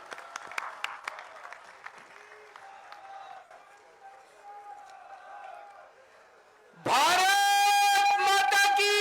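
At a political rally in Jalandhar, the crowd stands to welcome Delhi Chief Minister Arvind Kejriwal. An amplified voice speaks first, then loud, dense applause erupts and continues to the end, mixed with strong tonal sounds.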